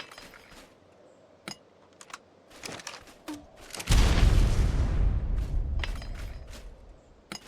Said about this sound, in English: And then we have just a normal grenade launcher round.